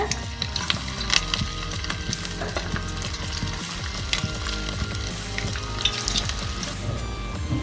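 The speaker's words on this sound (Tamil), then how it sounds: "உருண்டைகளை ஒன்று ஒன்றா எண்ணெயில் போட்டுக்கலாம்" Mutton kola urundai meatballs, bound with a little egg, frying in oil in a pan, a loud continuous bubbling sizzle with occasional stirring scrapes and clatter, close and steady, with no voices.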